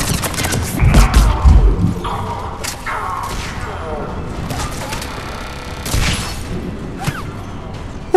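Bomb blasts in the video game Mass Effect 3 during a Cerberus attack, a cluster of deep, heavy booms and thuds early on followed by sharper crackling shots, loud and close.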